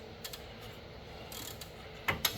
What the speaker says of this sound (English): Switch out some ratchets here.